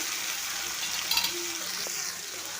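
Ripe tomato sizzling in a pan for a catfish curry, a steady broadband fry with a few brief scraping clicks near the middle and no talking.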